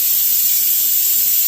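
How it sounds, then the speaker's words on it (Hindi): Steam from a pressure cooker whistling on a home kitchen stove as dal and rice cook, a steady loud high hiss held without a break. "सीटी लग रही है, ये दूसरी सीटी है कुकर की।"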